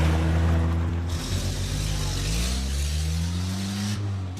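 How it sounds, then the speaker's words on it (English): A car engine runs steadily with rising and shifting pitch as it revs and pulls away, loud and close throughout with no other sounds. "Stop daydreaming and start the car."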